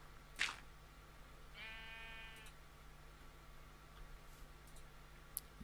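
Sheep in Minecraft give a short harmonic bleat in the middle, fairly faint against a steady low hum, with a sharp click before it and a few faint ticks after. The wool farm is in Minecraft 1.14.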